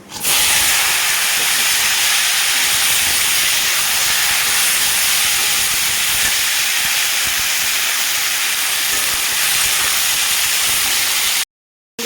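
Bay leaf, dry chilli, panch phoron and chopped vegetables hitting hot oil for an aloo bori tomato curry, giving a loud, steady hiss of frying that runs unbroken for about eleven seconds before cutting off abruptly.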